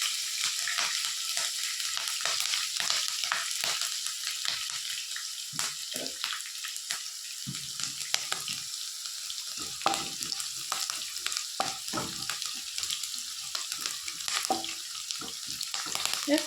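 Chopped green chillies frying and being stirred in a pan for a sour tamarind-ginger relish, a steady broadband sizzle with scraping stir strokes, close and continuous with no talk.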